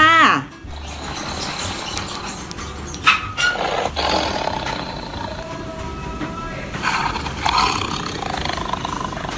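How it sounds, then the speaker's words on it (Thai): A tiger roars loudly and continuously in a rough, rumbling sound, following a short lead-in, for a kindergarten lesson on fierce zoo animals. "เสือมันก็จะร้องเสียงดังเหมือนกันนะคะ เด็กๆ มาลองฟังเสียงเสือกันค่ะ"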